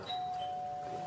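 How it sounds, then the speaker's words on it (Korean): A doorbell's electronic ding-dong chime rings as a single clear tone, held steady and fairly quiet throughout, over a faint background hiss. "딩동"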